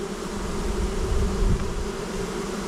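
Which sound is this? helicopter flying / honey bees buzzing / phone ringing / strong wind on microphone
honey bees buzzing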